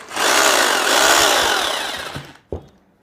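A handheld electric drill whirs loudly at high speed for about two seconds, then winds down, with a small click as it stops.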